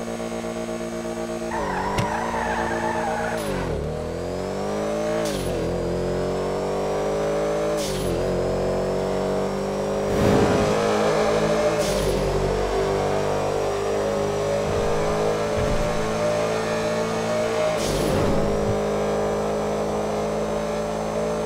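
A slow sports car in GTA V revs hard through repeated gear shifts, each pull climbing in pitch then dropping sharply, loud and close with a brash engine note throughout.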